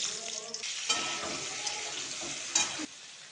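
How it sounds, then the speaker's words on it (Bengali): Potatoes frying in a pan in a home kitchen, with a steady broadband sizzle, a few scraping stir sounds and a sharper burst near the end, close and fairly quiet. "আলুগুলো ভেজে নেব"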